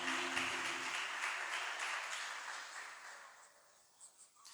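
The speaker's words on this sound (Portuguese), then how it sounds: "Mais forte as palmas para Jesus, meus irmãos." A church congregation claps together through a sustained round of applause, steady and dense before thinning out and fading toward the end, with a few scattered claps left.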